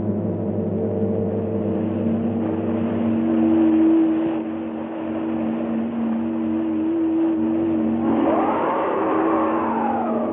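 A car drives along with a steady engine drone, growing slightly louder midway before a rising and falling whine near the end, with no voices.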